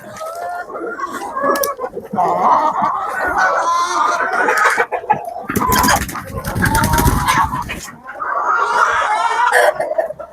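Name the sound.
Khan-Khyap and Barkovsky chickens clucking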